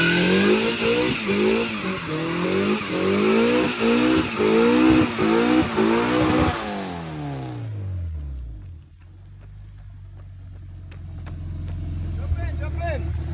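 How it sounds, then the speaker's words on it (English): An Integra does a burnout, its engine revving hard in a loud, pulsing rhythm with spinning tires for about seven seconds before the revs drop away to a quiet idle. "Let's see where we can go do a burnout."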